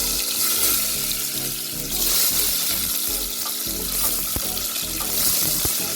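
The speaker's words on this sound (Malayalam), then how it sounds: "ഇപ്പോൾ ഇതാ ഉരുളക്കിഴങ്ങ് ഒരു ഹാഫ് വേവിന്, അതായത് ഷാലോ ഫ്രൈ ആക്കി എടുക്കാൻ പോവാണ് കേട്ടോ" Potatoes shallow frying in a pan for a cooker biryani, a dense close sizzle with watery crackle and a few sharp clicks of utensils, with no speech.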